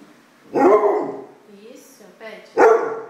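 A pet dog gives two close, loud barks a couple of seconds apart, with softer whining vocal sounds between them, sounding like the dog is asking for bread.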